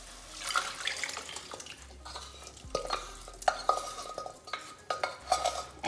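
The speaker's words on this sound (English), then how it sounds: "Now let's add the beans." Beans tipped into a hot pan of tomato mixture for Mexican rice and beans, giving a wet sizzle with scattered stirring scrapes and soft plops that pick up toward the end, close and fairly loud with no talking.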